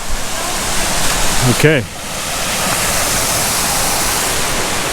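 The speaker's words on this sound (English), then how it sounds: "I think this must be the main viewing point of the waterfall." A loud, steady roar of a waterfall on the Rose River Trail in Shenandoah fills the scene, with a person briefly speaking close by over the constant rushing water.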